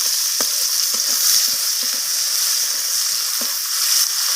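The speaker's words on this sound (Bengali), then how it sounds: "পেঁয়াজটাকে আমি লালচে রং ধরা পর্যন্ত পেঁয়াজটাকে এখানে আমি ভাজা করে নেবো" Sliced onions fry in hot oil with tempering spices in a pan for rohu fish kalia. The close, loud sizzle hisses continuously, with scattered light taps and scrapes from stirring.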